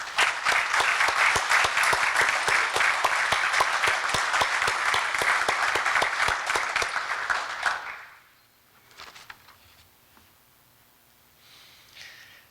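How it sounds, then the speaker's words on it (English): Crowd applause at a US Coast Guard Marine Safety Unit Houma change of command ceremony: loud, sustained clapping for about eight seconds, then fading into near-silence with faint scattered noises. "How about a big round of applause for these folks?"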